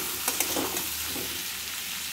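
Potatoes and paneer sauté in a pan with a soft, steady sizzle and a few light stirring scrapes, quiet and close, with no one talking.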